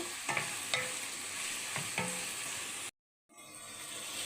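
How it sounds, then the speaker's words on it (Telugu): Sliced mushrooms stir-fry in a hot pan for mushroom fried rice, a steady sizzle broken by sharp scrapes and taps of a spatula, then a brief silent gap before the frying resumes. "ఇప్పుడు ఇందులోకి మనం ముందుగా కట్ చేసి పెట్టుకున్న మష్రూమ్ కూడా వేసుకుందాం. వేసి వీటన్నింటినీ బాగా కుక్ చేసుకుందామండి."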